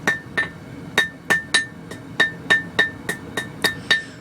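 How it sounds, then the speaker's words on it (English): A 4-pound rounding hammer, made from a small sledge, strikes hot steel on an anvil in a steady rhythm of about a dozen sharp ringing blows, each with a metallic ping, loud and close with no voices. "I'm using a 4-pound rounding hammer that I had made out of another small sledge."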